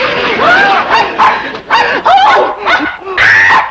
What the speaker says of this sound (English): That vicious dog is going to attack me.